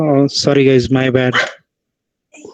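An excitable pet dog barks in a series of loud, close bursts indoors, overlapping with someone speaking, followed by a brief pause.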